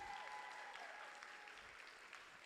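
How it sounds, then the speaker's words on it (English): Steady applause from a crowd for school staff and teachers at a graduation, dense clapping at an even level throughout with no voices rising above it. "Can we give a round of applause to the staff, teachers, educators?"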